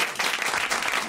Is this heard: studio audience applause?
yes